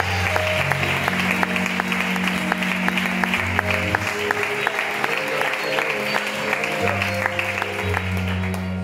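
Audience in a church in Reus applauding continuously and loudly at a religious gathering, steady clapping throughout with sustained organ or keyboard tones underneath.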